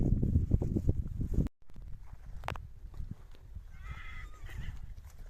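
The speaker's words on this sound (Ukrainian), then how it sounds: "Так, тут є ще така кобилка. А тут коник." Hooves clop in a quick rhythm nearby, then after a brief pause a horse whinnies, with soft shuffling and a high neigh later on, among horses kept for sale.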